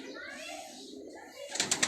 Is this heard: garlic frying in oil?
no